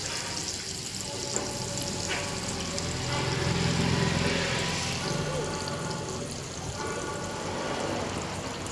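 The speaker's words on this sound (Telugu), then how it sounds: "ఇప్పుడు ఆనియన్స్ బాగా వేగాలి." Sliced onions cooking in a pan for a curry give off a continuous close frying hiss that swells slightly midway, with no speech over it.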